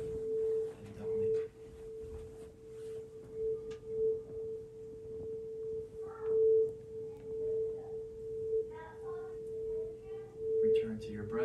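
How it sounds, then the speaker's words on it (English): A singing bowl rings a sustained, pure humming tone steadily throughout at low volume, with soft background rustles and faint murmuring breaking in now and then. "every tune and every hum of the sound bowl takes you doubling"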